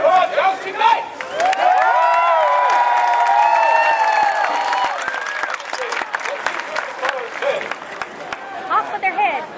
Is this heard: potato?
no